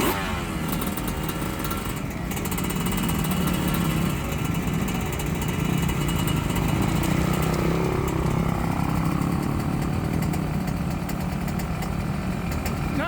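A Yamaha racing dirt bike engine idles steadily and fairly close, a buzzing, uneven single-note putter that runs throughout with slight wavering and no talk.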